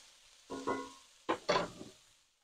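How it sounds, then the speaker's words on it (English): A spoon stirs leek and asparagus in a pan for a frittata, giving a few short scraping, sizzling strokes in two clusters, close and moderately loud, with no talking. "Give this a nice little stir."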